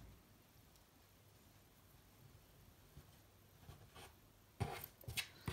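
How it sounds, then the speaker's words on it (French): Scissors cut crochet yarn in a quiet room, a few faint, sharp snips clustered near the end after several seconds of near silence. "Donc là, je coupe le fil"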